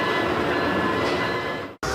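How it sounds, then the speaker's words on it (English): Model trains running on a miniature railroad layout give a steady, close rumble of wheels on rails with faint clatter, cut by a brief dropout near the end before resuming. "the nostalgic sounds of old railroads still fill the air"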